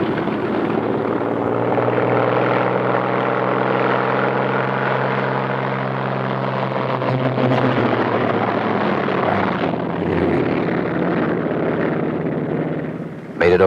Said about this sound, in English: First pair off. Second pair taxis out.